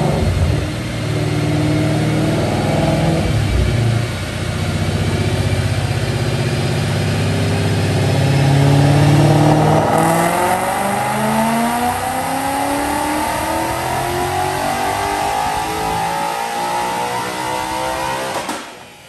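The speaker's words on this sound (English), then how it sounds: "So check out this dyno pull." A 2016 Mustang GT with a Roush Phase 2 supercharger and headers makes a loud dyno pull: the V8 idles, then climbs steadily in pitch to a sustained high-rpm roar and cuts off near the end.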